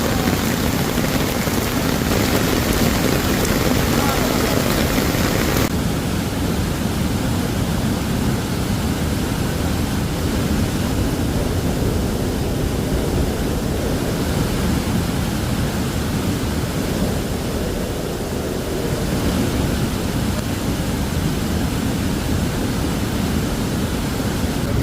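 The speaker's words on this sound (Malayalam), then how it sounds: "ഇന്ന് വൈകുന്നേരത്തോടെയാണ് അപ്രതീക്ഷിതമായി മലവെള്ളപ്പാച്ചിലുണ്ടായത്" Flash flood of rushing river water in a forested hill area after heavy rain, a loud, steady roar of torrential flow filling the whole stretch without pause, and no one talking.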